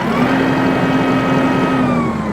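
A Deutz-Fahr tractor engine runs steadily in super creeper gear, a constant close mid-pitched diesel drone with a strong tonal hum and no change in level.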